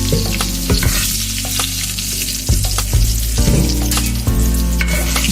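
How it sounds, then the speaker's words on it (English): Potatoes fry in hot oil in a pot, a loud close sizzle with crackling pops and occasional stirring clatter, no voices. "Because potatoes will pop a little bit. It's almost like cooking French fries."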